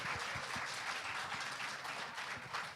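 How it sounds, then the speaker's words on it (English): A panel audience at a sustainability platform event claps after a call for applause, a faint, distant patter of many hands that stays steady throughout. "a round of applause"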